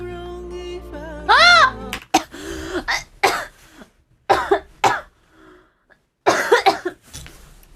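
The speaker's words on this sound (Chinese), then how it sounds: "笑我直咳嗽" A woman coughs in loud, repeated bursts after a fit of laughter, with high squeaky laugh sounds at the start, several harsh coughs spread across the clip, and brief quiet gaps between them.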